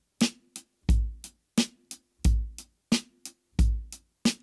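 A drum kit plays a basic rock-style groove from an exercise book, with deep kick drum thumps, sharp snare cracks and cymbal hits in a steady repeating pattern, loud and close with no talking.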